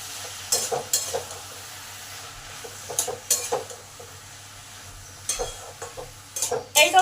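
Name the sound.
ridge gourd being sautéed with spices in a pan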